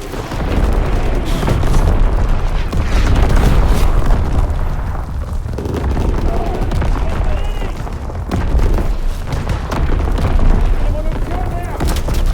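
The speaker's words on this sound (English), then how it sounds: "Incoming enemy artillery." Enemy artillery booms and bursts rumble through a Call of Duty WW2 team deathmatch on Xbox One X, dense continuous explosions and gunfire layered together at steady loudness throughout.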